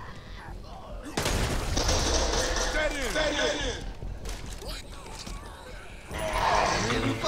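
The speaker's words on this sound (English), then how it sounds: "Double barrel shotgun." Double-barrel shotgun blasts in the zombie shooter Back 4 Blood, loud booming shots with chaotic gunfire and game noise around them, a strong burst at the start and another near the end, while people talk over the action.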